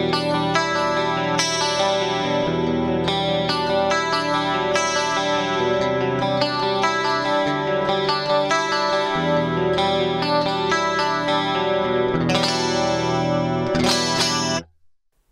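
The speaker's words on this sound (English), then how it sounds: "A little more of a subtle chorus style on here." A clean electric guitar runs through a subtle chorus setting on a Fractal FM3 at a slow rate, with steady shimmering chords and picked notes played continuously for about fifteen seconds before stopping abruptly.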